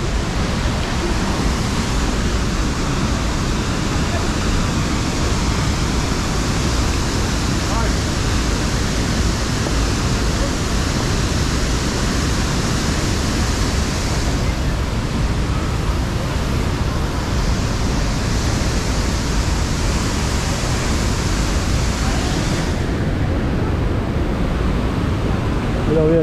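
A waterfall in Ubud, Bali, roars as a steady, dense broadband rush that fills the whole stretch. The level holds constant throughout, with no voices standing out above it.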